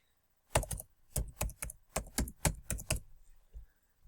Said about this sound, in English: when I was typing, I forgot my keyboard is wrong. It doesn't work very good.